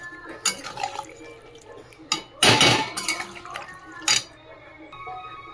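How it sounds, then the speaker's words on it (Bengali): Water poured into a pot of spiced potato and vegetable-stem curry, a few uneven splashing bursts with a louder gush midway, close and moderately loud, plus faint kitchen clatter. "চল জল দিয়ে দিচ্ছি।"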